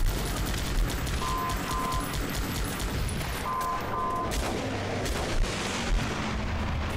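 An artillery bombardment in the video game Guns Up!, a dense continuous roar of overlapping booms and rumbling blasts that keeps going for the whole stretch, loud and unbroken, with small synthetic interface beeps sitting on top.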